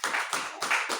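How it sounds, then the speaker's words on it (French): A church congregation claps hands together in a lively rhythm, roughly four bursts of clapping in about a second, close and fairly loud with no talk over it. "Applaudis pour le Seigneur."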